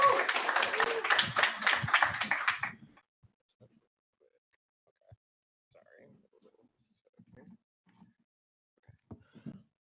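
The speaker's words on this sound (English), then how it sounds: "big round of applause to Alec" Applause and clapping from an audience at a tech gathering, loud and dense at the start, then cutting off after about three seconds into near silence with a few faint sounds.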